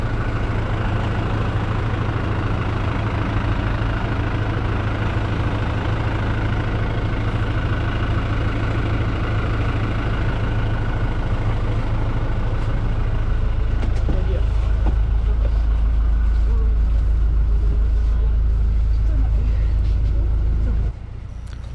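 Steady drone of a small bus engine on the road between Banda Aceh and Medan, a constant low rumble throughout that swells louder toward the end and then drops off abruptly.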